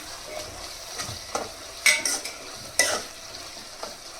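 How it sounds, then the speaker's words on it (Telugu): Okra pieces frying in a pan with cooked prawns for a pulusu, a close steady sizzle broken by several sharp clinks and scrapes of a utensil stirring against the pan. "బెండకాయ ముక్కలు వేసుకుందాం."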